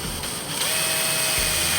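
A drill runs steadily in a home workshop, a continuous whirring buzz held close and loud for the whole moment, with a brief low knock partway through.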